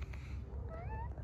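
A cat gives one short, faint meow with a rising then falling tone, heard quietly outdoors over a low rumbling background.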